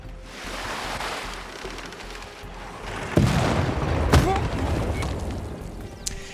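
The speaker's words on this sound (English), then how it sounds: "And they fired at the other cannon." Cannon fire in the strategy game Civilization VI: a loud booming shot lands at about three seconds, then another heavy blast follows a second later, both over a continuous rumbling game soundscape.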